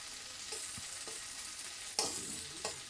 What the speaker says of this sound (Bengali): দিয়ে দিলাম ডুমো ডুমো করে কেটে রাখা ক্যাপসিকাম আর পেঁয়াজ ও তার আগে আমি দিয়ে দিয়েছিলাম চেরা কাঁচা লঙ্কাটা